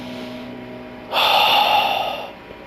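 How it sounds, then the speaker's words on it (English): A slow, steady inhaled breath taken as part of a guided breathing exercise, a soft airy rush lasting about a second alone in quiet surroundings. "Let's breathe in now."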